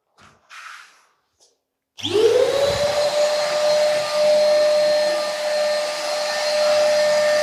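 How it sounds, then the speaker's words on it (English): A power sander with vacuum extraction starts up after a few faint knocks, then runs as a loud, steady whine and rush while lightly sanding the edges of a repaired ceiling crack. "it's going to be a little bit noisy because it's connected to a vacuum"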